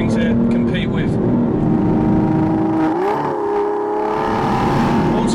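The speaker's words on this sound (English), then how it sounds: "just fantastic to get in a big V12 engine" Aston Martin V12 Vantage S with its V12 engine revving on the road, a loud, dense, continuous roar that swells and shifts pitch through a gear change.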